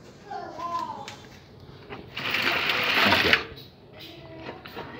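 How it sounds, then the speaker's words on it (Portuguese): A 3 mm drill bit bores into the back cover of a Consul microwave oven, a continuous whirring grind building and holding for about a second before stopping, with faint background sounds before and after. "Passa uma broquinha de 3 milímetros aqui."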